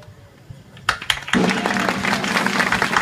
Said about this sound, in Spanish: Fuerte el aplauso para nuestra reina Heidi Primera.